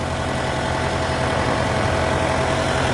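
A reassembled ARN98 combine harvester engine idles steadily and close by, a dense continuous rumble with a faint whine running through the full three seconds, no voices.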